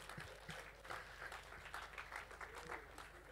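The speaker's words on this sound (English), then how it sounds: "Let's clap for the women." Church congregation applauding women during a sermon, with steady broadband clapping throughout, mixed with some voices from the crowd.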